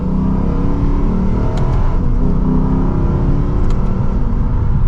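A loud, steady naturally aspirated Lexus V8 engine drones at a constant pitch while driving, with a deep rumble heard from inside the car.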